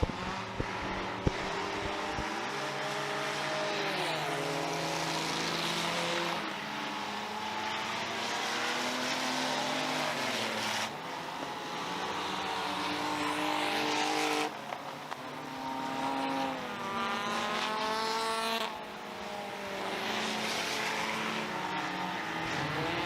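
Race cars roaring around the track at Merrittville Speedway, a loud continuous engine drone with rising and falling pitch as cars pass close by one after another.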